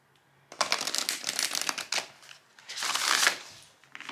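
Tarot cards are shuffled and drawn for a reading, giving close, crisp riffling bursts in several quick runs separated by brief pauses.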